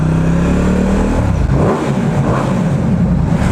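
A Ducati motorcycle engine revs hard and accelerates, a loud, steady roar close by. Its pitch climbs, dips briefly, then builds again.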